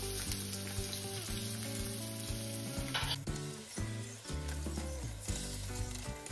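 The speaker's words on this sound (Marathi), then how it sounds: "आता यामध्ये थोडेसे तेल घालून घेऊया आणि कांदा घालून घ्यायचा आहे" Onion fried in oil in a pan gives a loud, dense sizzle throughout, broken by clattering stirs and scrapes of a utensil against the pan.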